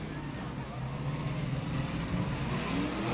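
A race car circles the oval at Auburndale Speedway, heard as a steady, moderately distant engine rumble rising slightly as it passes, blended with faint track ambience.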